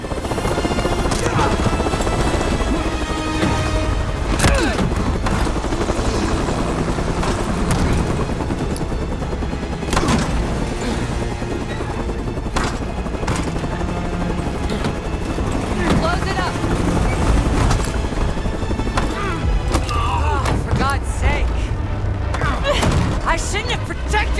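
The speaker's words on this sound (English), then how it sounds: "Case jumps onto the helicopter as it's flying away" A helicopter flying away during a Black Ops 6 game scene, with loud steady rotor thumping under dense action mixed with gunfire, impacts and people talking.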